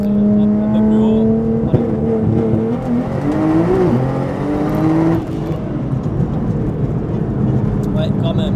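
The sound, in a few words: car doing a rolling anti-lag run, engine revving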